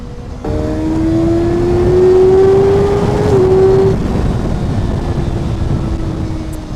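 A Kawasaki ZX6R motorcycle engine revs hard as the throttle opens, a loud rising tonal whine that climbs steadily for a few seconds, wavers, then falls back to a lower steady drone, with no talking.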